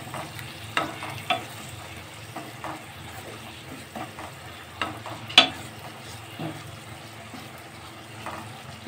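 Sev tomato curry being stirred in a pan, a soft background sizzle punctuated by intermittent spatula taps and scrapes, one sharper clack midway, close and quiet with no voices.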